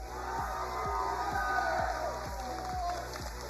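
Crowd at a Rocket League esports grand final applauding and cheering in a steady, dense roar, with a rhythmic thumping beat underneath throughout.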